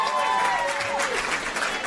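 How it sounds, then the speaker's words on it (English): An audience at an awards night in Sydney applauds, a continuous wash of clapping and crowd noise with some cheering, steady and fairly distant, heard briefly under an announcer's voice. "please give those two ladies a round of applause"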